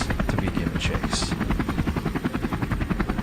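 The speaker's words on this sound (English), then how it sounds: "The pilot immediately dropped altitude, bringing the chopper low over the ground" A low-flying helicopter's rotor thumps in a fast, steady rhythm, loud and close overhead over a hillside chase after wild boars, with a continuous engine drone underneath.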